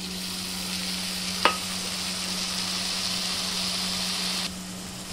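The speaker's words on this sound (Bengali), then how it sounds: "এই যে আমি পেস্টটা ঢেলে দিলাম।" Spice paste drops into hot oil in a pan and fries with a steady, even sizzle. A brief sharp splash comes as the paste goes in, then a continuous hiss runs on.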